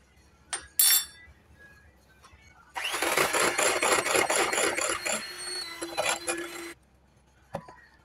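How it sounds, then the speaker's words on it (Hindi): An egg is beaten into basbousa batter in a bowl, a brisk scraping whisk that runs for about four seconds between a few clinks and quiet pauses. "दूसरा अंडा डालेंगे और फिर बीट करेंगे 2 से 3 मिनट के लिए"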